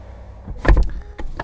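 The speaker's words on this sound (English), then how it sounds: "That's the best way to close the door, if you have to do it by yourself." Rear door of a Rolls-Royce Cullinan Black Badge being closed, a close, heavy muffled thud followed by a softer latching sound moments later, with no voices.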